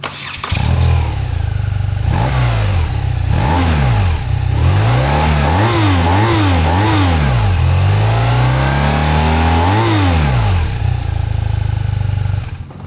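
A 2025 BMW R12S motorcycle engine revs loudly and repeatedly through its stock exhaust, rising and falling in quick blips before settling into a steady deep idle.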